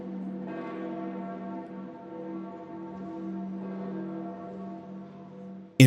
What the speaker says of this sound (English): Bells tolled as leaders from more than 150 countries took their places for the papal funeral.